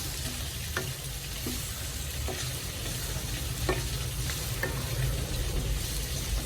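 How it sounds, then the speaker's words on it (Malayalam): Boiled, drained potatoes sauté in a pan for a potato roast, with a steady close sizzle throughout and occasional soft scrapes from stirring. "വേവിച്ച് ഊറ്റി വെച്ച് ഉരുളക്കിഴങ്ങ് കൂടെ ചേർത്ത് കൊടുക്കാം നന്നായിട്ടൊന്ന് സോട്ട് ചെയ്തെടുക്കാം"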